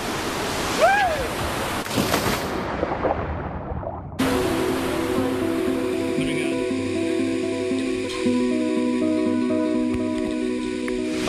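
A broad, steady roar of falling water fills the scene, with a sharp shift partway through and a low tonal hum layered in afterward.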